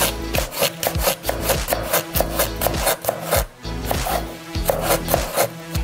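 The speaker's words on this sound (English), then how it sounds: "So next we cut the garlic stalks diagonally." A kitchen knife slices garlic stalks diagonally on a wooden cutting board while making lagman noodles, giving a steady series of close, crisp chopping strokes in an even rhythm with no talking.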